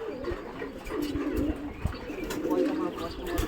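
Low, throaty cooing from several nearby pigeons continues throughout, with soft thumps and shuffling underneath and a faint voice in the background.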